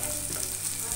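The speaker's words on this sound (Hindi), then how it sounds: "ये 3-4 कलियां लहसुन की है, मैंने उनको कट कर लिया है। अब हम इसमें डाल देंगे और इसको अच्छे से रोस्ट कर लेंगे।" Three or four chopped garlic cloves roast in a hot pan, giving a short, steady, close sizzle with no speech.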